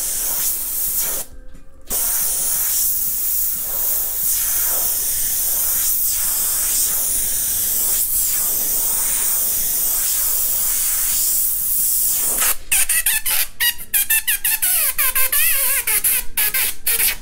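An airbrush sprays paint onto a canvas for graffiti, giving a loud, continuous close hiss that runs almost unbroken for most of the time. It stops briefly near the start, then breaks into short rapid bursts at the end.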